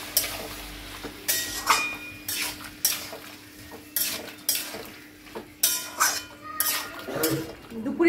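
A utensil scrapes and stirs poppy seed into cauliflower and potatoes frying in a pan, giving repeated short bursts of scraping and clinking against a soft, steady sizzle and a low hum.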